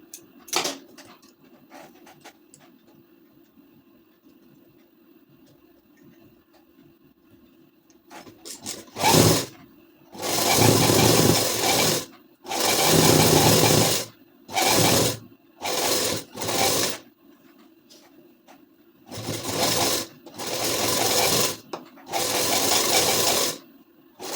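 A sewing machine stitches lace onto a ladies suit in several loud bursts of running stitches, separated by short pauses and a quiet hum.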